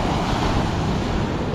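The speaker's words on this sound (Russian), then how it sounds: "Красивая волна." Sea waves break and wash along a Black Sea shore near Lazarevskoye, Sochi, in winter, heard as a steady, close rush of surf and water, mixed with some wind noise and no talking.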